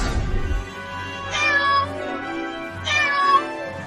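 A cartoon cat meowing, two clear, drawn-out meows about a second and a half apart, close and prominent with no talking over them.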